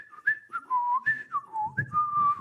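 A person whistles a short, wavering tune aloud, imitating someone whistling while cleaning; several clear rising and falling notes follow one another.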